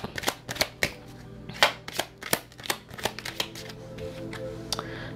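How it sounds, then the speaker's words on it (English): Tarot cards being shuffled and pulled for a reading, a quick run of crisp papery snaps and riffles, some clustered and some spaced out, close and fairly loud over a steady low hum. "I'm going to pull cards on these."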